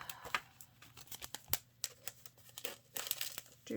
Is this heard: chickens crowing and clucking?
no